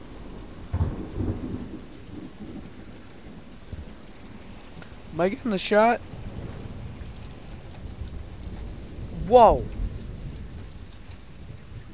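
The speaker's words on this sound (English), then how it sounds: "The lightning and thunder is roaring." Thunderstorm with steady rain, rumbling thunder rolling in bursts near the middle and end of the clip, while a person exclaims and talks excitedly over it.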